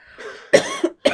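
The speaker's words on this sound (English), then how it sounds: "I've been coughing all day." A person coughs three times in short, close bursts, a rough first hack followed by two sharper coughs, near and fairly loud with nothing else around them.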